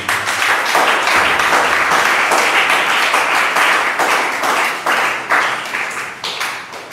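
Sustained applause from a church congregation acclaiming the Lord, dense clapping with some cheering that carries for the whole stretch, rising and falling slightly in waves.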